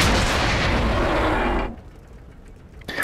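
Tank gunfire in World of Tanks: a loud, sustained artillery blast with rumbling roar that cuts off sharply after about a second and a half, leaving a quiet tail and a faint later thud.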